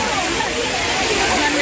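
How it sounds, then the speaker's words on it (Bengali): A waterfall gives a loud, close, unbroken roar of rushing, splashing water, with voices blended into the noise. "চলে এসেছি ঝর্ণার কাছে"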